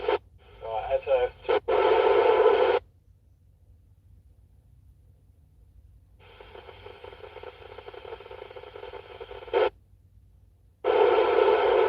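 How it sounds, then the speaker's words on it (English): A Yaesu FTM-400 amateur radio picks up repeater activity outdoors on Dunstable Downs: bursts of narrowband, filtered radio voices with static, separated by quiet gaps, with three or four transmissions opening and closing abruptly. "look at how many repeaters I can hear activity on"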